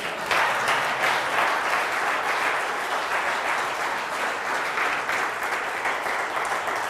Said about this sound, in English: Give me applause.